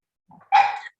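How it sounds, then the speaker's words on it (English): A new puppy gives a single short, sharp bark after a faint soft whimper, close and loud in a quiet room. "I have a new puppy and she just woke up, of course."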